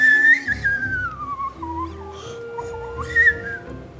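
Someone whistles a wavering, sliding tune over a rumbling background with some higher squeaky tones, fairly close and moderately loud.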